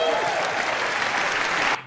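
Audience applause in a comedy club, a brief, loud burst of clapping from the crowd that cuts off abruptly near the end.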